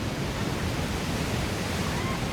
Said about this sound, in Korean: 배는 폭포수 속으로 빨려 들어갈 듯 가까이 다가간다.